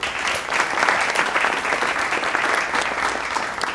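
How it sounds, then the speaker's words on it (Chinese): Applause from a class of students after acting roles are announced, steady continuous clapping at close range with no talking over it. "大家掌声鼓励"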